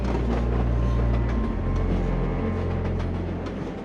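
A Tasmanian train rumbles along with a steady low roar and faint rhythmic clicking from the wheels on the rails, loud and close, no talking.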